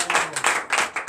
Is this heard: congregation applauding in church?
yes